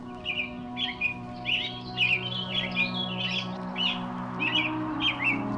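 A European robin sings a series of bright, high warbling phrases in steady succession over a constant low hum.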